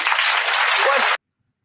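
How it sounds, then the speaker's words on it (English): Studio audience applause, a dense, even wash of many hands clapping close and loud, cutting off abruptly into silence after about a second. "please clap your hands"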